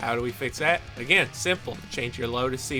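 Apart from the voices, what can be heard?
None of the usual background noises is heard.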